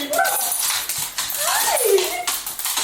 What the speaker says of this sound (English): so many puppies